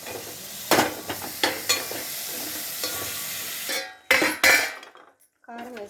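Fish pieces and onions sizzling in a pan while a metal spoon stirs and scrapes, bright clanks against the pot standing out over steady frying, with a voice briefly heard.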